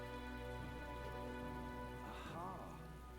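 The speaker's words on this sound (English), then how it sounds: "This rain just won't cease." Steady rain falls in the fantasy role-playing game Metaphor: ReFantazio, a continuous wash of raindrops with a sustained musical drone and a brief tonal flourish partway through.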